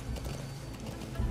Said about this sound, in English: It said X to speed up the horse.